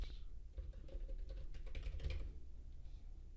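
Keys tapped on a computer keyboard while entering email details into a form, a quick irregular run of close clicks with brief pauses, no voices.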